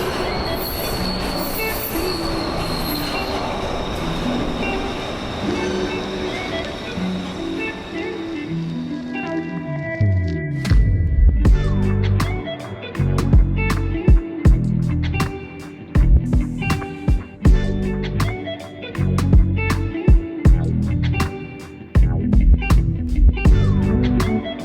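A subway train runs close by and loud, its wheels squealing and rumbling, then the rhythmic clatter of the cars over the rail joints as it passes through the station.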